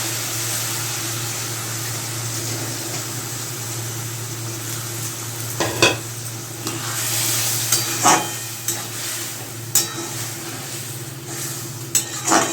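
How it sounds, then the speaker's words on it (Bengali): A potato and bitter gourd curry with mustard paste sizzles steadily in the pan as water is added, with scattered clinks and scrapes of a utensil against the pot. "জল অ্যাড করে দিচ্ছি।"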